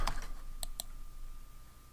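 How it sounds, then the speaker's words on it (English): A few sharp, quiet key clicks sound on a computer keyboard in a hushed room: a cluster right at the start, then two distinct taps a moment later, followed by near-silence. "Okay, sorry, I accidentally typed some stuff in there."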